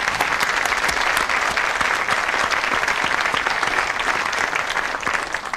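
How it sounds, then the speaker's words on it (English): A studio audience at a 1970s British television panel show gives a sustained round of applause, a steady crackle of many hands clapping without a break. "let's have a ripple of applause for the suspects"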